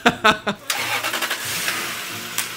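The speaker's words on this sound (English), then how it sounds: "So we managed to, you know, jumper start the car." A V8 project car cranks and fires up after a jump-start, settling into a steady rumbling idle close by; brief voices and a few sharp knocks come just before the engine catches.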